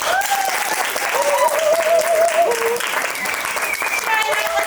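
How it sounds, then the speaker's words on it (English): Audience applause at a summer musical theatre showcase, loud sustained clapping from a crowd, with a singer's sustained vocal line audible above it. "So let me just hear a little bit of an applause."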